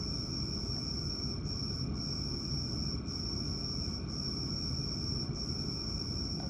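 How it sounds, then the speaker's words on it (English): A loud, steady, high-pitched cricket chirp drones on without pause in a quiet room, sharp and piercing like an alarm tone. "And then I realized it's a cricket. A very loud cricket at that."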